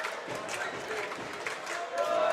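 Alexander Spartans crowd jeering a free-throw shooter at a men's basketball game in a gym: a steady, moderately distant din of many voices, rising slightly at the end.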